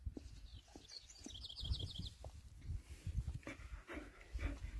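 Faint bird chirps twitter in the background outdoors, mixed with low rustling and soft ambient noise.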